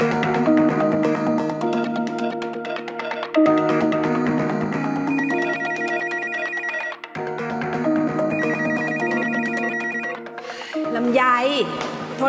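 A telephone at a workplace rings with a loud, steady electronic melodic ringtone that repeats in cycles, with a voice briefly heard near the end.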